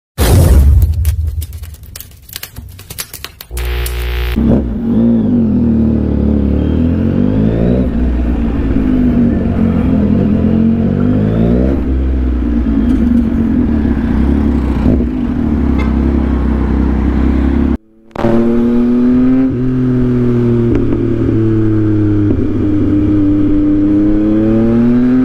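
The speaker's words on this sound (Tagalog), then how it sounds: "Traffic singit test Yamaha MT-09." Yamaha MT-09 motorcycle engine while riding through traffic, loud and close with rising and falling revs over a long stretch, heavy wind buffeting at the start and a brief cut partway through.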